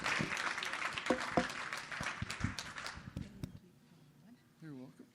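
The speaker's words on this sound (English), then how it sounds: "let's give Todd another big round of applause" Audience applause at a chamber of commerce business breakfast event, a dense burst of clapping that fades after about three seconds, followed by a voice speaking.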